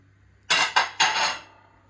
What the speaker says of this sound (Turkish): Akşam yıkanan bulaşıkları boşaltıyoruz.